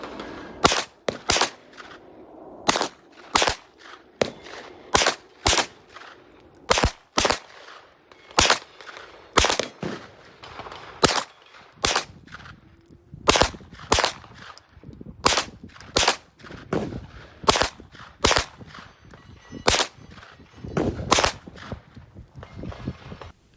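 Gunshots from a Hi-Point 995 TS 9mm carbine at the range, about two dozen loud, sharp reports fired at a steady, unhurried pace, each ringing out alone with brief quiet between.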